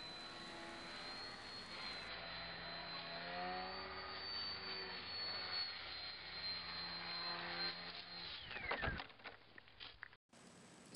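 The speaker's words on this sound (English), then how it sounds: "here's the vertical takeoff flying without gyros" Electric RC VTOL model plane flying in vertical mode without gyros, making a steady high-pitched motor and propeller whine with wavering pitch as it maneuvers nearby, followed by a brief clatter near the end.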